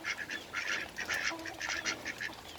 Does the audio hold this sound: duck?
yes